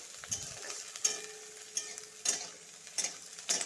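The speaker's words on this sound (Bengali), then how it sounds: "ছোটো সাইজের একটা পেঁয়াজ ঢেলে দিব ভেজে নিব এটা লাল লাল করে" Six or seven chopped garlic cloves and a small chopped onion frying in a pan, a soft sizzle with gentle stirring scrapes and light taps of the spoon, fairly quiet.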